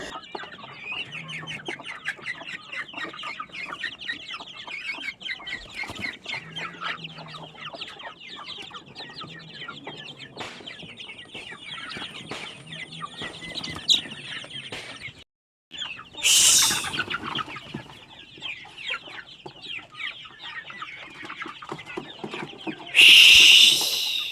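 Several chickens cluck and chatter steadily at close range, with a few louder, harsher bursts near the end.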